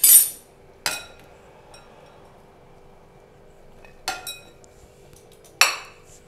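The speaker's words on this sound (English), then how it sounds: "I'm going to add all the pineapples here." Pineapple pieces are tipped into a mixing bowl in a few sharp clinks and clatters, separated by quiet gaps, close and clear.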